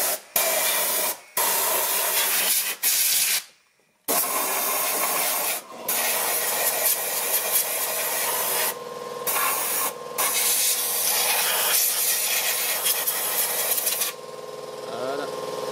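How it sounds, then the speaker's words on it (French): Compressed air blow gun cleaning out the air filter box of a Citroën Xsara Picasso hisses loudly and close in long sustained bursts, cut by several short silent gaps. "Allez, un petit coup de soufflette là-dedans."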